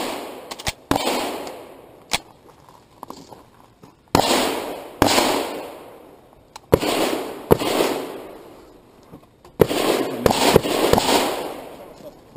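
Gunshots ring out at a shooting competition stage at Sanners Lake that includes left-handed shooting: loud, sharp cracks in quick strings separated by short pauses, echoing outdoors.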